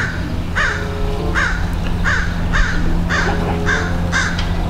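Crows caw repeatedly in a steady series of harsh calls, about one every half second, over a constant low background hum.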